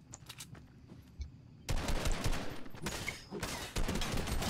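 Fortnite gunfire: sparse scattered shots at first, then loud rapid bursts of automatic fire erupting and continuing in dense volleys, close and forceful.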